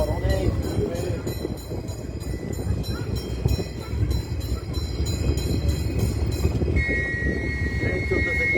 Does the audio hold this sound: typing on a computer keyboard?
no